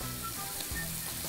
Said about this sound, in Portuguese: Olha aí, só um salzinho e já colocamos aqui para fritar.